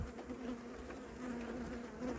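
A steady, close buzzing of honeybees during winter feeding hums without pause, faint and continuous.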